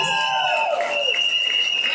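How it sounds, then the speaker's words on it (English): Crowd at a pageant-style event cheers and shouts in a steady, lively wash of voices after a crown is won, with high whoops layered over the noise. "Give her another round of applause."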